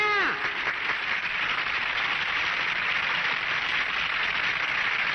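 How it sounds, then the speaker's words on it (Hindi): Applause from a village crowd at a celebration, a dense steady wash of many hands clapping that carries on evenly throughout, close and fairly loud. "तालियां"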